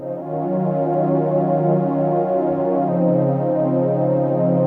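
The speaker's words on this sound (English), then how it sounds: "I made a little sequence inside the MicroFreak" An Arturia MicroFreak synthesizer plays a steady, looping sequence of sustained tones, continuous and fairly loud, with a chord change partway through and no talking.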